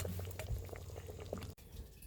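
Fish soup seasoned with fish sauce, shrimp paste and dried chilies simmers in a pot, giving a faint, steady bubbling with a soft low rumble and a brief dip near the end.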